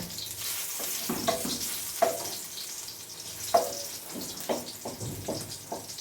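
Unpeeled garlic cloves rolling in hot cooking oil, giving a steady close sizzle broken by sharp crackles and pops as the cloves are stirred around the pan.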